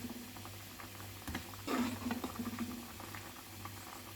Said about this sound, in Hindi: आलू और ड्रमस्टिक को बॉईल करते हुए 3 से 4 मिनट हो गया है।